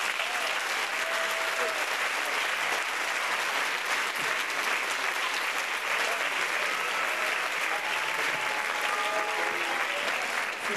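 Steady, dense audience applause at a dance recital fills the whole stretch, a continuous wash of many hands clapping with faint background voices underneath.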